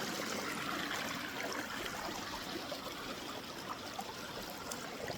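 A clear mountain stream runs over rocks near a cave, giving a steady broadband rush and trickle that stays continuous and even throughout.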